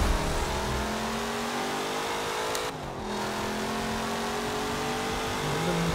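A 1964 Chevrolet Impala Super Sport's engine revs steadily in the racing game Forza Motorsport 7. It drops for a moment partway through, as if shifting gear, then pulls on at a constant drone with no voices.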